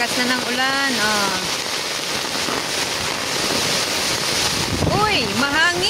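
Steady broadband hiss of heavy, windy rain pouring down throughout, with excited voices calling out near the start and end.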